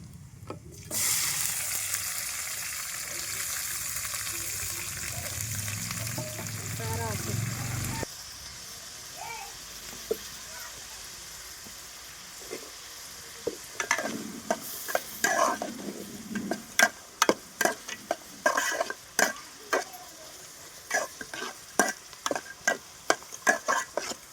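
Onions frying in a pan for a village-style yam (kanda) curry, a steady loud sizzle for several seconds, then quieter frying broken by sharp scraping and stirring clatters of a spatula against the pan.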